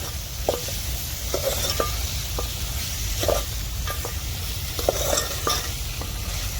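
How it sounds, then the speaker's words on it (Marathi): Three finely chopped tomatoes being stirred into a hot frying pan for egg biryani, a steady sizzle under repeated scraping strokes of a spoon against the pan, close and fairly loud with no talking. "तर इथं ना मी तीन टमाटर बारीक कापले, ते घालते मी तर आता टमाटर पण मी मिक्स करून घेते"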